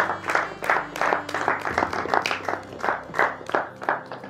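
A church congregation applauds in a rhythmic, steady beat of many hands clapping together, fairly close and lively, with a few murmured voices underneath.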